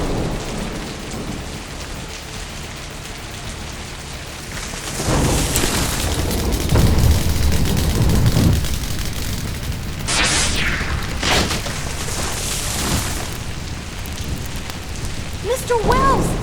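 Rain pours steadily while deep thunder rolls and booms swell in the middle, with a couple of sharper cracks nearby; no one speaks.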